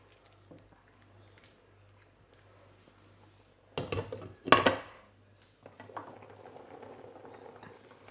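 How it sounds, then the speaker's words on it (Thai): Water boils in a pot on the stove, ready for pasta. After a quiet stretch comes a brief loud clatter of cookware, then a steady, moderate bubbling rolls on nearby. "ตอนนี้ค่ะน้ำก็เดือดแล้วนะ"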